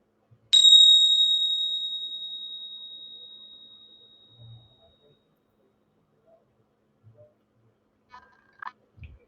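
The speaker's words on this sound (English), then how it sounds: "I'm going to ring the bell. When the sound stops, we'll open our eyes." A meditation bell struck once at the close of a loving-kindness session, a clear bright ring that hangs and slowly fades to silence over several seconds, followed by quiet room shuffles.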